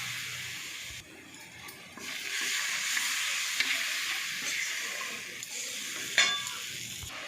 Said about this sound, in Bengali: এবার আমি টমেটো দিয়ে দেবো।